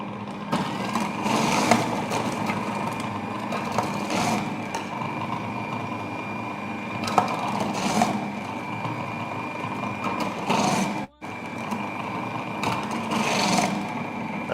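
A Thermocook Pro M 3.0 food processor grates ingredients for a Christmas pudding, giving a steady, loud motor whir with a rasping edge that holds throughout, briefly cutting out near the end before resuming.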